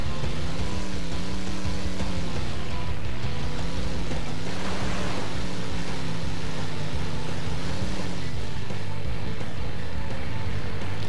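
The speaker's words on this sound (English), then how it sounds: "I just like seeing those water waves whenever I drive through water." Engine drone and continuous watery rush as an off-road 4x4 vehicle drives through shallow water in the 4x4 Evo 2 video game, loud and steady throughout with wavering engine pitch and no talking.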